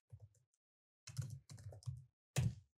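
Keys clatter on a computer keyboard in a few short, quiet bursts of typing separated by pauses, close and alone with no voice.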